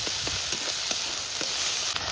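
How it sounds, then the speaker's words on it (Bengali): Coconut paste with ginger and garlic frying in a pan, giving a steady close sizzle with faint stirring scrapes, heard alone without any talk. "নারকেল আর আদা রসুনটা ভালো করে ভেজে নিতে হবে"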